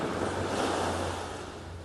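Sea waves washing over a shore, a loud, broad rush of surf with wind noise that swells and then eases slightly toward the end.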